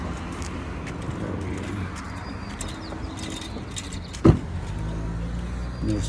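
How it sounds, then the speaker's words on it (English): Street traffic near Dolores Park: a continuous hum of passing cars, with one sharp, louder thump or clatter near the end, and no talking. "Wait for the traffic to die down."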